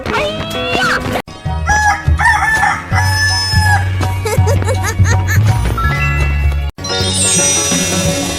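Loud rooster crowing, a drawn-out cock-a-doodle-doo repeated in bursts with clucks, set in a children's animal sound game with bright musical backing.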